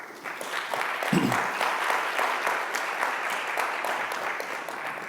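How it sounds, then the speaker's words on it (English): Audience applause for panelists at a conference on an equitable, flourishing planet: a steady, dense wash of clapping that fills the room evenly for the whole stretch, with no voices over it. "please do give them a round of applause"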